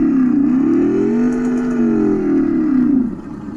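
A Meelod T16 kids' e-bike plays a synthetic engine sound, a loud, close, smooth tonal drone that rises and dips like a gentle rev for about three seconds before trailing off.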